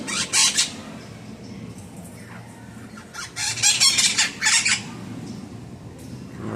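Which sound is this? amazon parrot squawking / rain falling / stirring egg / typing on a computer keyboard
amazon parrot squawking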